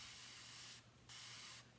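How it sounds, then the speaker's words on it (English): Spray bottle misting water onto a chalk transfer, two short bright hissing bursts close to the mic separated by a brief pause. "and I'm gonna spray it with water."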